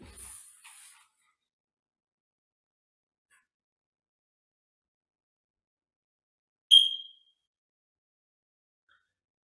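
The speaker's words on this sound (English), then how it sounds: "I guess I need a new battery in my fire extinguisher or my smoke detector" In an otherwise silent room, a smoke detector with a low battery gives one short, high chirp. A faint rustle comes just before it.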